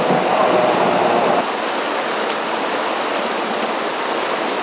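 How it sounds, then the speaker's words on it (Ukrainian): A torrent of floodwater rushes down a village street in Transcarpathia during summer flooding, a loud, unbroken roar of churning water that fills the whole stretch without pause. "центральна вулиця перетворилася на справжню бурхливу річку"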